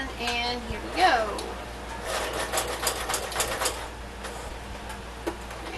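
A sewing machine stitching fabric for an apron, a quick close rattling run of stitches in the middle after some tonal whirring and handling at the start, fading to quieter rustling, with a voice speaking briefly.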